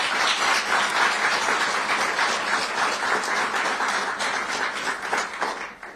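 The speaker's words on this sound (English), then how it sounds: "So please give them a round of applause." An audience at a Tampa press conference announcing a child rescue mission bursts into sustained applause, a dense, steady wash of many hands clapping that continues throughout and tapers off near the end.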